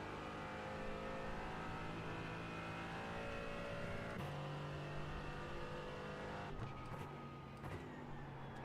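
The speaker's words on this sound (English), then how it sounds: "I know, it's a Cayman, so it sounds a bit like the Cup car." A Porsche Cayman race car engine in the iRacing game drones steadily at sustained revs, a quiet continuous whine with a couple of brief shifts in pitch, heard without talking.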